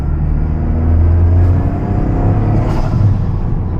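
A Toyota GR Corolla fitted with a GFB blow-off valve and a K&N intake filter downshifts, heard from inside the cabin as a loud, deep engine drone with brief airy bursts.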